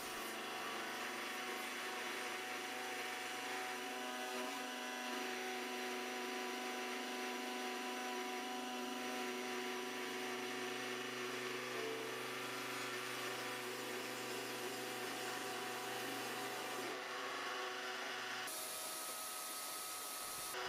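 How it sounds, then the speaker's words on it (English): A router table trimming an electric guitar body blank flush to a template with a bearing-guided bit, a loud, steady high-pitched whine with sustained tonal hum throughout, shifting pitch slightly near the end. "I've set up the router table so the bearing of the bit rests on the template"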